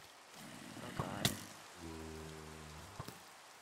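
Steady rain patters down during a lightning storm in the Minecraft video game, a soft continuous wash with a few sharp clicks and low droning game tones over it.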